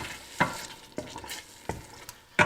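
Smoked salmon seasoned with salt, pepper and herbes de Provence cooking in a pan: a soft, low sizzle with several sharp scraping stirs of a utensil against the pan, quiet and close.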